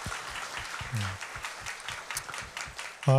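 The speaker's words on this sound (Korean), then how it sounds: "우리의 예배를 받으시기에 합당하신 우리 하나님께 감사와 사랑의 박수 올려드리겠습니다." A congregation claps together during a Korean church worship service, moderate and steady applause in a reverberant hall, with soft musical tones rising near the end.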